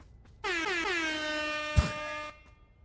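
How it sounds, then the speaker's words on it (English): A loud, blaring air horn sounds in a couple of short stuttered blasts, then holds one long sustained tone before cutting off. "Give you a little air horn with the heave away."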